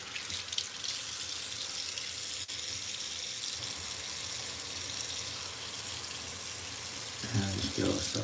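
A glove is rinsed under a running tap, with a continuous close rush of water and a louder splashing surge near the end as the glove is worked under the stream.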